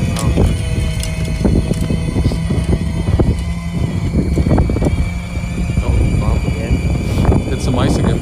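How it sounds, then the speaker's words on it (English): A Yarbo robotic snow blower throws snow during a Chicago demo, its steady mechanical roar running throughout with scattered thumps and bursts, while people talk over it. "Blow the snow. There it goes."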